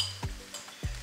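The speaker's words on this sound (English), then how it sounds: "I want to fry the prawn a little bit." Prawns frying in a pan for prawn fried rice, a low hiss broken by two distinct stirring knocks or scrapes against the pan, close and moderately quiet, with no one talking.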